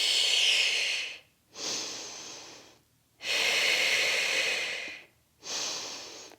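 Three long, steady inhalations during an exercise workout, each a broad airy rush lasting a couple of seconds, separated by short silent gaps, close and fairly loud with no talking.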